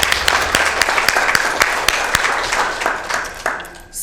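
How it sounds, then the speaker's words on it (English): A small audience at a county commission meeting claps for a few seconds, with scattered, close hand claps that are fairly loud at first and then thin out and fade. "And I want to give a clap to her."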